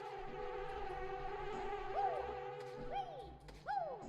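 Bees buzzing in the video game Banjo-Kazooie, a steady insect drone with a few swooping rising-and-falling tones near the end, moderately quiet and without speech.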